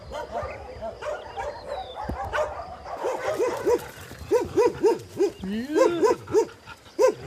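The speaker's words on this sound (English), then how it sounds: "We have purchased 75 hectares of land and we have about 400 dogs here living loose." Many loose stray dogs bark and yip repeatedly at an open shelter on large rural land, with a steady run of barks growing louder in the second half, mixed with other dog noise, while a person speaks briefly.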